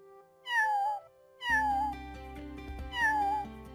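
Kittens in the pet-care game Amy's Pet Clinic give three bright, clear meows in turn, the later two over a soft game music bed, close and fairly loud.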